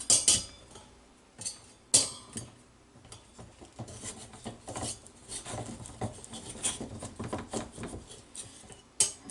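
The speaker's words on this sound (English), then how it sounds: "Slide your rack on down, keep on slicing." A knife slices down through a hasselback potato set on a rack, making a string of uneven scrapes, taps and clinks of metal that come close and fairly quiet, with no voices.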